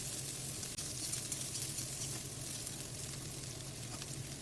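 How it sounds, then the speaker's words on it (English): Cauliflower frying in a pan for a poppy-seed cauliflower dish, giving a steady, dense sizzle that stays even throughout, with one brief click near the start and no talking. "So we will fry it for little more."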